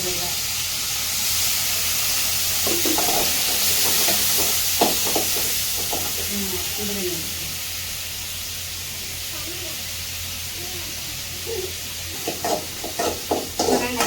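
Onions and tomatoes sautéing in a pan on a stove make a steady, broad hiss that runs the whole time, while a person talks over it and some scraping sounds come near the end.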